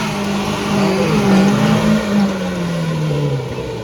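Daihatsu Feroza 4x4 engine braking on a descent, a loud, close engine drone that swells and then slowly falls in pitch as the revs wind down, with no talking.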